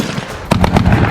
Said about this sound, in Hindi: हमास गाजा में घुसे इजराइल के जवानों पर अंधाधुंध गोलियां बरसा रहा है